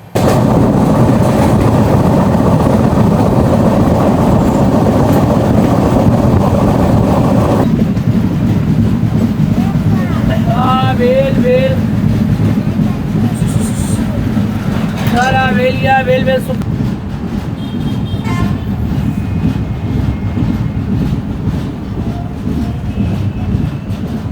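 A Konkan Railway passenger train from Mumbai toward Devgad, nearing its first halt at Mangaon, makes a loud, steady rolling rumble from onboard, with brief voices over it midway.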